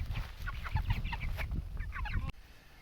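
Several 6.5-week-old meat chickens cluck and chatter close by in a busy, overlapping stream, with low rustling underneath, until the sound cuts off abruptly.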